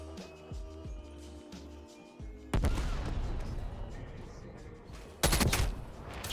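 Gunfire in the Call of Duty Black Ops Cold War video game, with bursts of automatic fire and sharp shots including a sniper quickscope, loud and dense with abrupt shifts in intensity.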